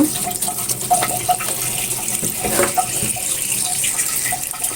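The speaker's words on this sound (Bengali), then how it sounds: "শাকগুলো তো বাছা শেষ, এখন ধুয়ে নিব" Mixed leafy greens are rinsed by hand in running water, a steady splashing and trickling close by, with small knocks and sloshes throughout.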